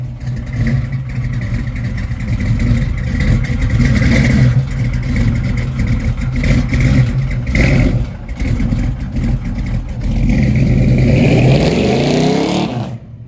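A Chevrolet Monte Carlo with a small-block LS engine and aftermarket heads revs hard and loud, the throttle blipping and rising in surges, with a brief dip in the middle and a final climbing rev before cutting off.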